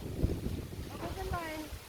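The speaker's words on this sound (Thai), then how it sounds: "โอ้ลมแรง" Strong wind blows outdoors near a campfire setting, a steady roaring buffet on the microphone with people talking over it.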